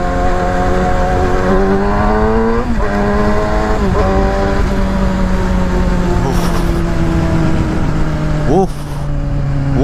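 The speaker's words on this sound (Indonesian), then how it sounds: "Gua gas dikit doang ini ngangkat tuh." A Yamaha R6 sport motorcycle, ridden on a touring trip to Bali, is throttled up under load. Its engine note climbs steadily and loudly over about ten seconds, with steady road and wind roar beneath it.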